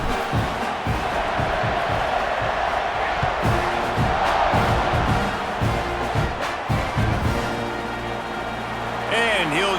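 A stadium crowd in EA Sports College Football 26 roars and cheers in a continuous loud swell, with commentators talking over it throughout.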